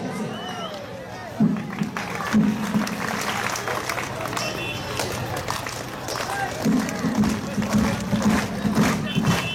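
An audience at the Mirakkel comedy stage show claps together in a loose rhythm, bursts of clapping rising and falling amid crowd noise, with voices and chanting over them.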